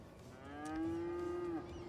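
A single drawn-out cow moo from cattle in the city-building game Cities: Skylines, a smooth sustained low call lasting about a second, fairly soft and alone.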